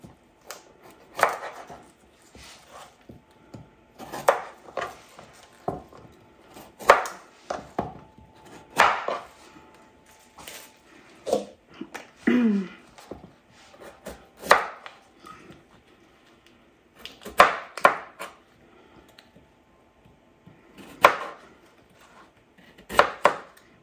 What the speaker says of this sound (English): I've got some ginger right here I'm going to cut up